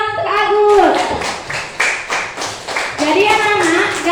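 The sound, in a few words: classroom applause for a student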